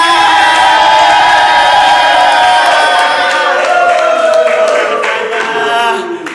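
Guests at a Sweet 17 birthday party cheer and clap loudly, a close, full roar of crowd noise with whoops that holds strong before fading at the end.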